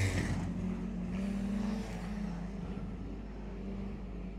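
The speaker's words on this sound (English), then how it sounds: "Such spectacular cars" Wingless sprint cars race through a dirt-track heat, a steady distant engine roar with a rising and falling drone as the field circles, no voices over it.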